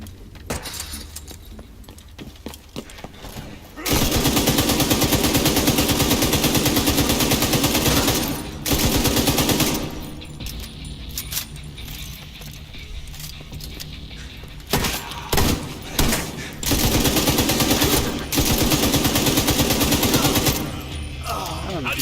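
Bursts of automatic and single gunfire from the video game Tom Clancy's The Division 2, loud and dense in several sustained volleys separated by quieter gaps, with players talking over the shooting.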